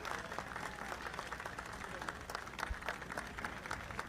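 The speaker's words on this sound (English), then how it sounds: "the applause that you can hear in the background is from the Argentinian team for the Japanese team" Faint, steady applause from the Argentinian team for the Japanese team rises in the background at a FootGolf world championship in Acapulco, distant and continuous under an outdoor wash of noise.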